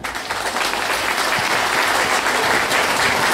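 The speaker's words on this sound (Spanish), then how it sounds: "El aplauso fuerte." Loud sustained applause from a crowd at a political campaign event, dense steady clapping filling the whole moment without voices.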